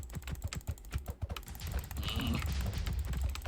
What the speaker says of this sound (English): If you can hear me clicking,